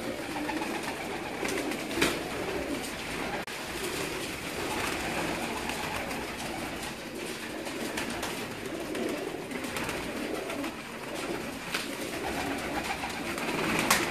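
Pigeons coo softly and repeatedly over a constant hum of background noise, with no voices, the calls blending into a low murmuring texture.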